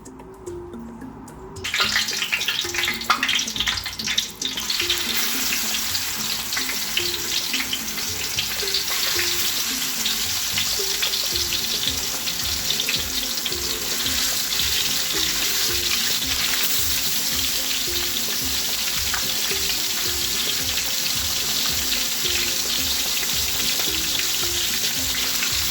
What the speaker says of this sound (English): Heat a pan, add oil, olive oil, and pan fry the fish.